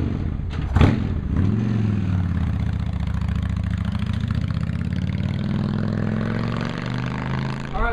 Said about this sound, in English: We're now going to ride the bike a mile or two to spread that sealant around the tire.